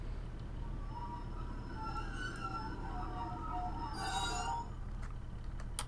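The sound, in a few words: Class 150/1 train shutting down in train simulator game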